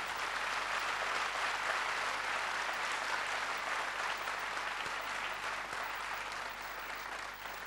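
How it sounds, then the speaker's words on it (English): A large school audience clapping loudly at an annual day dance performance, dense sustained applause filling the hall for several seconds and tapering slightly at the end. "how loudly you clap"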